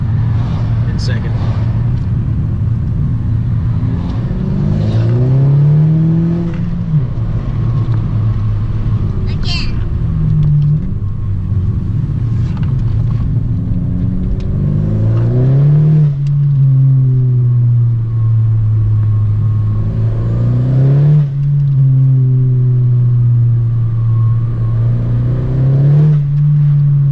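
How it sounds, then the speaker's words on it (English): A 2017 Honda Civic with a catless downpipe, muffler delete and cold air intake revving from 2500 rpm in second gear, a loud droning exhaust that rises and falls in repeated pulls, with people talking over it. "let's just hear the downpipe"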